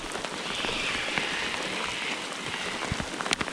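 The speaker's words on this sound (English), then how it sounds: "Alright, now it's bloody raining" Steady rain pattering on surfaces outdoors at a riverside camp on a stormy morning, a dense close hiss of drops with a few louder splats and no voices.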